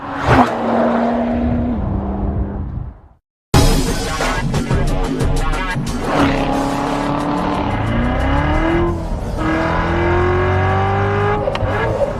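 A supercharged V8 engine in a Corvette Z06 sports car revs hard, rising and falling in pitch, cuts out briefly, then roars again with deep, loud, close acceleration.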